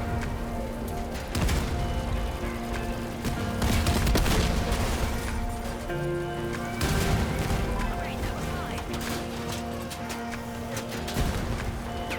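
Vehicle gunfire from Porcupine weapons in the Crossout combat game, bursts of shots and impacts layered over steady engine drone and battle noise, fairly loud throughout with louder clusters of fire.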